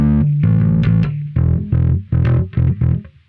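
Dry bass guitar with no Microsynth pedal, playing a loud, close riff of plucked notes and a few held tones, heard alone without speech.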